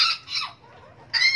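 Serama bantam chicken being handled for feather trimming, giving two or three short, bright clucking calls close by, with a brief quiet gap before the last burst.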